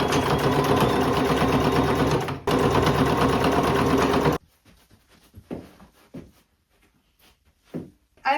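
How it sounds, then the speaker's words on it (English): A sewing machine stitching a hem on a thrifted denim dress, two loud steady bursts of rapid mechanical whirring with a brief pause between, followed by quiet fabric handling and soft clicks. "we're going to fold it under and then sew right along this"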